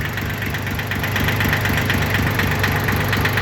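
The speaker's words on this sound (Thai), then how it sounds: "ตัวนี้เครื่องยนต์3สูบฮะ" A Yanmar YM1610 three-cylinder diesel tractor engine idles steadily with a rapid, knocking mechanical rhythm, close up and continuous, with no talking.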